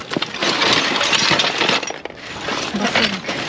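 Broken glass items clink and rattle in a crowded dumpster as they are moved and rummaged through, giving a dense, close burst of chinking and scraping with no one speaking.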